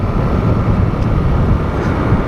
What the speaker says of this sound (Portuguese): Será que já tá batendo biela?